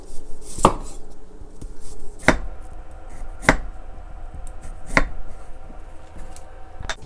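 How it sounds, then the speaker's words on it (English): A knife slices through unpeeled fresh ginger on a cutting board, making five sharp, well-spaced chops over about seven seconds. Each one lands close and clear against a quiet kitchen background with no voices. "So with ginger I will keep the peel on. I'm just going to slice it."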